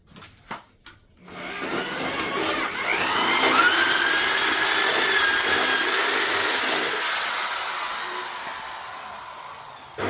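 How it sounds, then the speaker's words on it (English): A power drill boring out metal on a go-kart, a few short taps at first, then a sustained high-pitched whirring grind that rises in pitch and holds steady for several seconds before easing off. "I'm going to drill it out."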